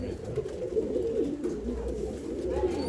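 A breeding pair of fancy pigeons, a Sabja-marked male and a Roshan female, coo softly and continuously at close range amid low ambient noise.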